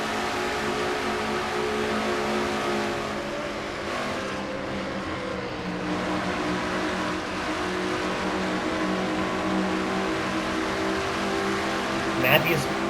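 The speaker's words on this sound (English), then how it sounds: "On board with Cole Deaver in the number 3 Goodwrench car." The number 3 GM Goodwrench Chevy stock car drones steadily at speed on track from an onboard perspective, its engine a constant loud roar with slight pitch shifts, under a commentator's voice.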